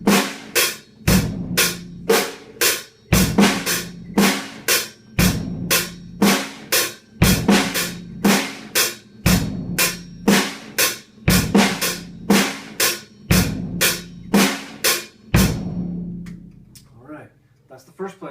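Rock beat with a syncopated snare played on a drum set: repeating bass drum, crisp snare hits and steady cymbal or hi-hat strikes in a tight, looping groove that rings out at the end.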